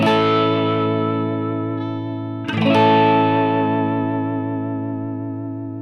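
Sustained distorted electric guitar chord bending in pitch, dipping down and wavering with vibrato, then a fresh strike that rings out and slowly fades.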